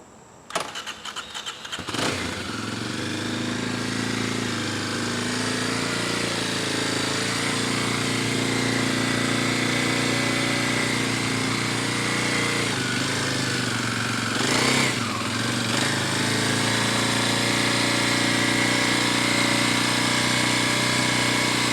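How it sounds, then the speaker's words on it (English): A motorcycle engine cranks with a few quick turns, catches and settles into a steady loud idle, running close by with slight rises in revs near the end. "And get your motorcycle."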